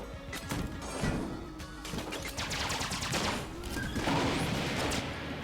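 A rage rifle fires in the game Enter the Gungeon, giving bursts of crashing, punchy shots that come in quick volleys with impacts and clatter over a steady game background.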